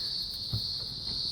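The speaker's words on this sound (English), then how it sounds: "look at the cicada" Live cicada held in the hand: a steady, high, continuous buzz drones throughout, with a soft low bump midway.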